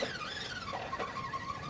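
An RC rock crawler on Injora Kraken Claw tires drives under added throttle through a wet rocky corridor, its small motor whining steadily with a rising pitch sweep, close and continuous.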